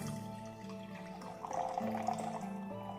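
Water is poured onto sand in a simple science demonstration, a faint steady trickle and splash with no voices.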